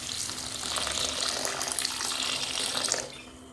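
Chickpea cooking water is poured into a pan of chana masala, a steady splashing pour for about three seconds before it cuts off, with no talking.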